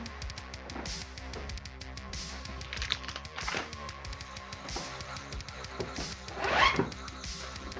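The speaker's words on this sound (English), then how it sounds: "Such a fun sound pulling out a chopping board." A chopping board slides out of a kitchen storage spot during bacon and zucchini slice preparation, giving short zip-like scraping rasps, the clearest burst near the end, close and fairly quiet.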